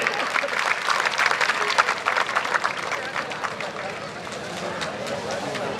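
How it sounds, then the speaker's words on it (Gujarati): A village gathering in Vaghosana breaks into hearty applause from the crowd, dense clapping at full strength for several seconds and then gradually tapering off, with some voices mixed in. "આપણે જોરદાર તાળીઓના ગડગડાટથી વધાવી લઈએ છીએ"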